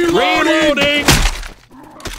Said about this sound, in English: Fire in the hole! Molotovs.